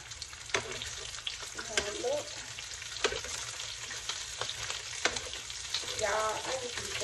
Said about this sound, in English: We got bacon cooking.